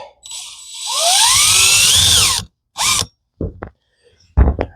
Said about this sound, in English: I'm going to go ahead and just fire a screw here